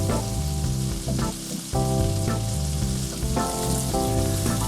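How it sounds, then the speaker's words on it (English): Shallots sizzling steadily in a hot pan alongside veggie burgers, a dense continuous frying crackle with occasional stirring, close and alone with no talk. "We're going to add the shallots to the pan with the burgers"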